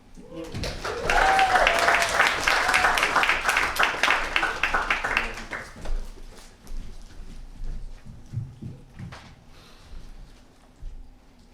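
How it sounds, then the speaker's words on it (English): At a spoken word poetry slam in Fitzroy Library, Melbourne, an audience applauds as a poet walks to the stage. The dense clapping lasts about five seconds, then fades into quieter room noise. "Please applaud all the way to the stage, John"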